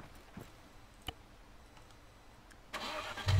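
Car engine starting in Arma 3: after a quiet stretch with faint clicks, the motor cranks and catches near the end, rising to a loud idle.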